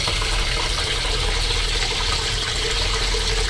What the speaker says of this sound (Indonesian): Terus disiram dengan air dingin.